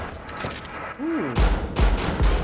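Shotgun blasts in a video game, a few heavy booming shots from about the midpoint onward, loud and close, mixed with other game sounds and a brief rising electronic tone.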